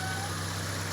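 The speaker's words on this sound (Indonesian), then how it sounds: "Dan ini suara mesinnya" A 2005 Toyota Kijang Innova G engine idles smoothly, a steady low hum with a faint constant whine, close and even for a brief moment with no roughness.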